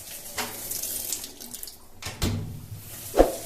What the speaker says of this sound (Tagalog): Magkakarga siya ng tubig